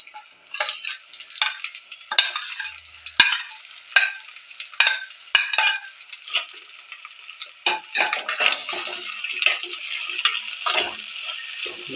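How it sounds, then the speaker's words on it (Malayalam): Ginger, onion and chilli sauté in a hot pan for chicken curry, with bursts of sizzling and stirring scrapes that come and go in a loose rhythm, close up and fairly loud, with no voices. "സവാള, മുളക് എല്ലാം കൂടി ചേർത്ത് കൊടുക്കാം."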